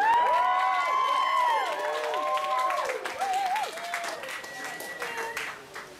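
An audience at a live music night at Torchlight, Lee Abbey, applauds and cheers to welcome a performer, a dense wash of clapping with whoops and voices mixed in, loud at first and slowly fading.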